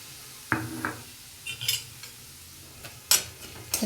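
Semolina frying in oil in a pan for gujiya, heard as scattered scraping and clinking of a spoon against metal, with a few sharper knocks standing out over a faint background sizzle.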